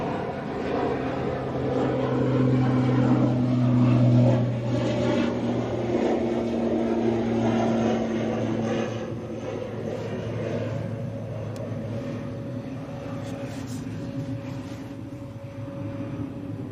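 Qatar Airways jet taking off at Manchester Airport, with a loud rumbling engine roar and droning tones that swell early on, then ease and fade as the aircraft moves away.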